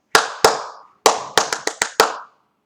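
A short rhythm pattern is clapped by hand during a classroom music lesson: seven sharp, close claps with a pause after the second, then a quicker cluster, each ringing briefly in the room.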